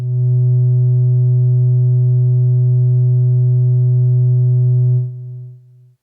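Steady sine tone passing through an AJH Synth Ring SM ring modulator, a loud pure hum with faint harmonics held for about five seconds, then dropping to a quieter tone and fading out in steps.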